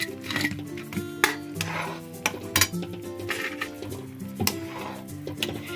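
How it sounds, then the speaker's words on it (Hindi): Pakoras being stirred into boiling besan kadhi in a cooking pot: repeated clinks and scrapes of a spoon against the pot, with soft bubbling and harmonic background sounds, moderately loud and close. "अच्छी तरह ऐसे चलाते रहें ताकि पकौड़े में जो है रस भर ले इस तरह"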